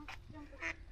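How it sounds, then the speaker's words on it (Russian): Ducks on clear water at Ruskeala in Karelia give two short, nasal, honking quacks, faint and close together. "И утки. Кря-кря."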